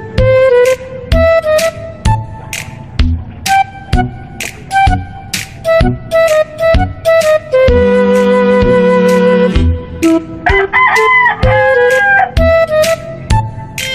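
Chickens cluck in sharp bursts, with a rooster crowing in a long drawn-out call midway, loud and close, amid scattered squawks.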